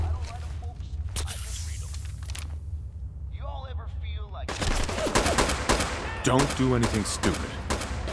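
Rapid bursts of gunfire in Fallout 4 during a Nuka-World DLC fight at the Nuka-Cola Bottling Plant, loud sharp shots in clusters with a voice line spoken between them.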